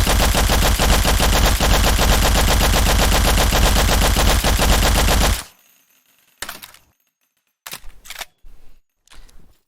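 Rapid automatic gunfire from a new weapon in the video game BF:RI, a loud, fast continuous burst for about five seconds, followed by a pause and then several short separate bursts.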